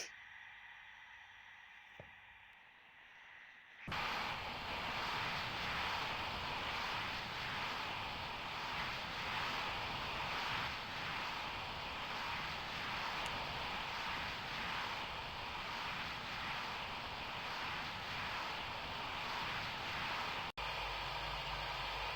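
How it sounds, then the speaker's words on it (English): Airliner engines hum steadily while taxiing in the Roblox flight game PTFS, a loud constant broadband roar with a high whine that switches on abruptly after a few seconds of quiet and holds evenly to the end. "The engines are now started up. We're about to take off. We just need to taxi."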